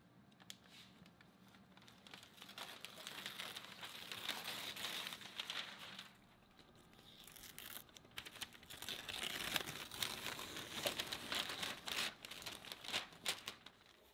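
Masking tape peeled off a Jeep after spraying Raptor bed liner, a close, continuous crinkling and tearing with a brief lull midway, no talk.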